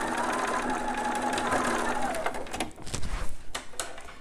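A sewing machine back-stitches the bottom of a newborn romper, its motor whirring steadily at close range before a few uneven, choppier bursts as the stitch reverses.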